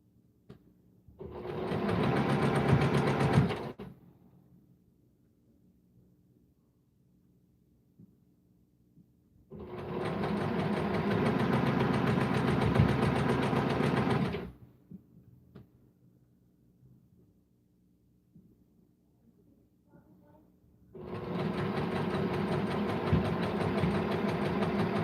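Quilt strips are stitched onto blocks on a sewing machine in three separate bursts of steady, close whirring, each lasting several seconds, with quiet pauses between them.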